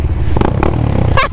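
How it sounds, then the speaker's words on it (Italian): Husqvarna 630 motorcycle with its dB killer removed, revved briefly in the woods; a short, loud, close-up burst of deep engine roar with a slight rattle. "Robby, fammi una sgasata."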